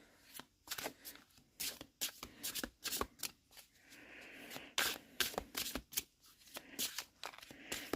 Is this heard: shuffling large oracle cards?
yes